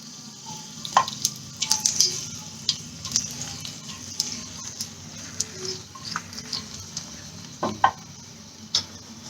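A whole red chili sizzles in hot oil in a pan for dal makhani, giving soft crackling and scattered sharp pops and clicks at close range over a quiet hiss, without speech.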